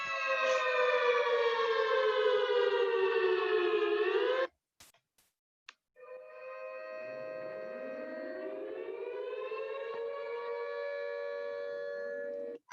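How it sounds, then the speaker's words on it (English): Civil defense siren wailing loudly and steadily, its tone holding then sliding down, cutting off briefly and then rising again into a long sustained wail, with no talk over it. "Siren."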